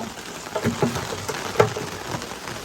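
Steady rain patters on a fishing boat in the Gulf of Pattaya across the whole clip, a dense hiss with a few heavier drops standing out, no voices.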